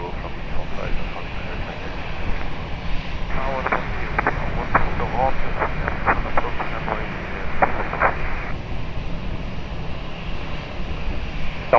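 A fixed-wing airliner at Lisbon Airport roars with steady engine noise, heard from a distance, while air traffic control radio chatter cuts in midway.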